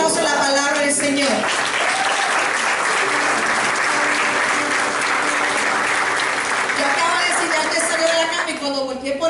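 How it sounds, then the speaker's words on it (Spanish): Church congregation applauding together, a loud, dense wash of clapping that fills nearly the whole stretch before thinning out near the end, with voices mixed in. "De un aplauso a la palabra del Señor."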